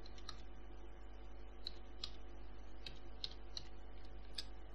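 A computer keyboard clicks as a short command is typed, a sparse run of close, quiet keystrokes over a low steady hum, with no talking.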